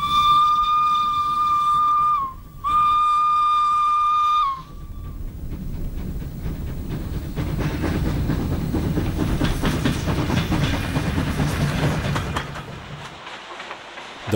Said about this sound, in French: la plupart des sifflets européens ont un son très aigu